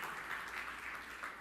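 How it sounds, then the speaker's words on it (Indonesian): A congregation in a church gives a soft, distant, continuous round of applause during a sermon, a faint, even wash of many hands clapping. "Tepuk tangan yang meriah kemudian."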